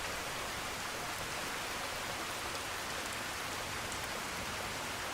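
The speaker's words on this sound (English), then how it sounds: "I always found the weather very peaceful when it rained in Skyrim" Steady, even rainfall in the video game Skyrim makes a soft, continuous hiss that runs the whole time with no voices.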